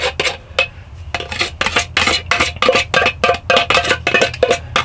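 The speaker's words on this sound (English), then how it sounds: "I use my knife to clean out the can" A knife scrapes the inside of an empty chili can in quick, rhythmic metallic strokes, about a dozen sharp scrapes in close succession, near and crisp, with no voices.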